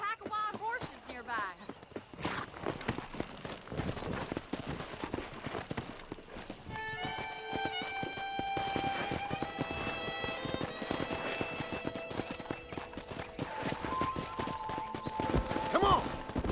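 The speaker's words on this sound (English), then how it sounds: "That ranch hand said there's a pack of wild horses nearby." Horses galloping in the Red Dead Redemption video game on PS5, a rapid clip-clop of hooves running throughout, with a neigh and tonal music layered over it and voices speaking in places.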